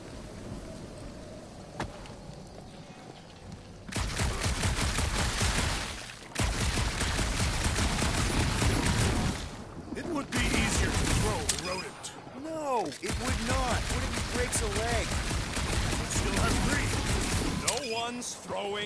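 Gunfire in the Guardians of the Galaxy game, loud sustained bursts of rapid shots in several long stretches separated by brief lulls, with whooshing effects and voices mixed in.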